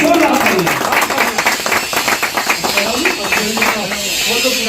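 Loud, rhythmic applause at a swearing-in ceremony, with a crowd clapping in quick rising bursts that fade toward the end while people talk over it.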